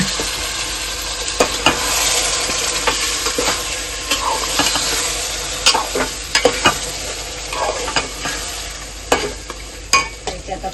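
Cooked mutton sizzles loudly in a hot pan while a spoon stirs it, a steady frying hiss broken by repeated sharp scrapes and clinks of metal against the pan.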